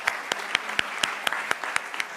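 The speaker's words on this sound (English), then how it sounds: "A round of applause for him." Applause at a school graduation ceremony, with a steady rhythm of crisp claps over a continuous wash of crowd clapping.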